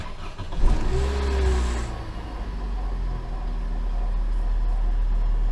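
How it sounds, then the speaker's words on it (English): A 2005 Opel Astra 1.4i petrol engine cranks briefly and catches, then settles into a steady idle heard from close by, with a faint whine under the start. "I try start the engine."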